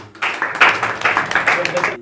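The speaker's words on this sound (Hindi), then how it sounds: "चलिए इनके लिए एक जोरदार ताली" A short round of applause for a student at a coaching centre, lively clapping from a group of children that rises and falls in bursts, loud and close.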